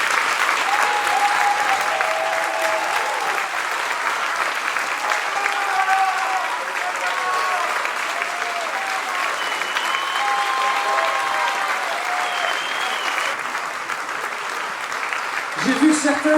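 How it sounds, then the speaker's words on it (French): Cabaret audience applauding the performers and musicians at the end of a show: sustained, dense clapping from a large crowd, steady throughout, with a voice speaking over it. "On va applaudir Mackerzik, on va applaudir les musiciens."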